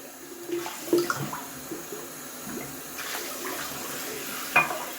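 Tap water runs into a bathroom sink during a quick wash-up after wet shaving with a stainless steel slant safety razor, a steady close splashing with a few brief clinks.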